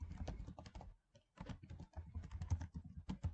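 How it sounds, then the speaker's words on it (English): Quick, close bursts of typing on a computer keyboard while entering a document name in Microsoft Word, with rapid key clicks broken by a brief pause midway. "say you wanted to type the name of the document"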